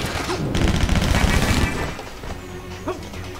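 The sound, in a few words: MP5 gunfire in video game Stranglehold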